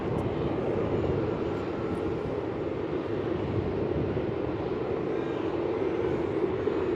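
A Jetstar airliner taxiing at Melbourne Airport after landing from Adelaide, a steady distant engine roar that holds evenly with no change in loudness.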